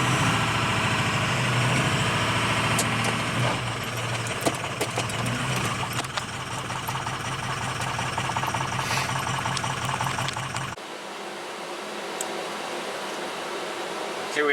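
Diesel truck engine idling roughly and struggling as if about to stall, a loud close low rumble with uneven pulsing and metallic clatter that drops off abruptly near the end.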